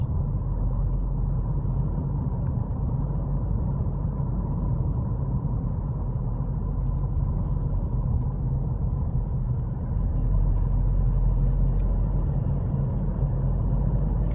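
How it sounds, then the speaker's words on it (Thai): A car engine rumbles steadily at low speed, close and continuous, as it climbs a steep, winding road through a village on the way to Pak Nai fishing village in Nan, with no talk over it. "ก็พยายามขับรถให้ช้าลง เพราะว่าเป็นในเขตหมู่บ้านแล้วก็ ทางโค้งเยอะนะคะ"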